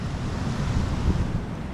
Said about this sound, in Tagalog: talaga namang mas lumalaki ang alon